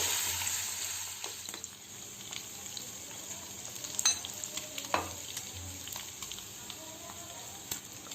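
Pork and chopped ginger frying in a pan for a roasted pork curry, a continuous moderate sizzle broken by occasional clicks and scrapes of stirring.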